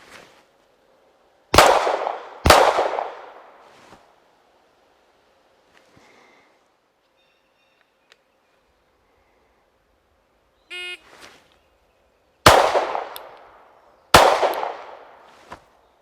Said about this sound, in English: when I fire those shots from 50 feet